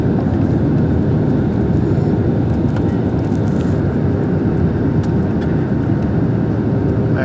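Steady loud broadband roar of an airplane cabin during flight through heavy rain, a constant engine and airflow rumble with no pauses, no talking.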